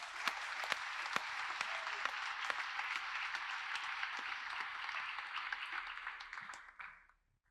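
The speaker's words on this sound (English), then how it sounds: "How about a round of applause for those guys?" A crowd at an event claps in sustained applause for several seconds, a dense steady patter that fades out at the end.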